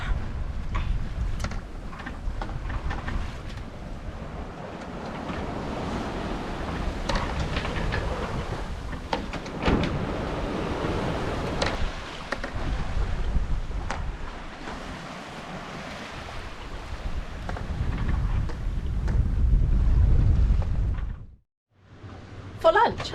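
A sailboat moves under headsail alone with the engine off in 14 to 15 knots of wind, giving a continuous wash of water and wind noise around the hull, with brief knocks and a sudden drop near the end.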